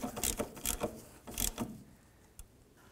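Ratchet wrench snugging an oil filter housing bolt on a 1994-2004 Chevy S-10: a few quick clicking ratchet strokes in short bursts, close but quiet, then a lone faint click after a pause.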